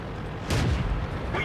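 Distant artillery fire in the World of Tanks video game: one dull boom lands mid-clip over a steady rumbling game background, with no talk.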